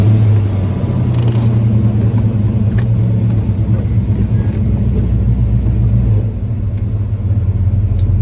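A lowered 1977 Chevy C10 Cheyenne pickup drives along, heard from inside as a loud, continuous engine rumble with mild rises in revs and road noise, without talk.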